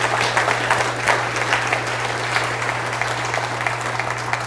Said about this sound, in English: So let's give these 5 individuals a big round of applause